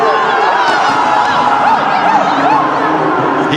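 A stadium crowd cheers and roars steadily through the India vs New Zealand T20 World Cup final, loud and continuous, with a commentator speaking over it.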